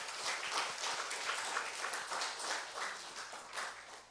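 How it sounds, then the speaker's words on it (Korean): A church congregation applauds during a Korean sermon, a dense patter of many hands clapping steadily for about four seconds at moderate distance, with no talk over it. "우리 하나님의 은혜에 영광의 박수를 돌리시기 바랍니다."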